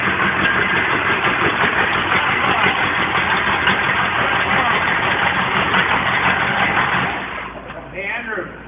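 A 12-valve Cummins diesel idles steadily after starting up from five years of sitting, a loud, continuous rumble that holds for about seven seconds and then drops off as a voice speaks briefly near the end.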